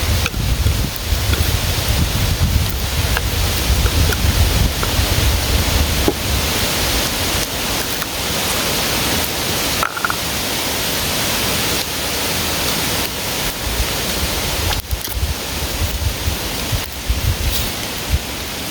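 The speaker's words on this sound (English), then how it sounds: "This wind is really winding out here." Steady wind rushes through a forest campsite, a broad continuous roar with gusty swells and occasional buffeting thumps on the microphone, carrying on without pause and with no voices.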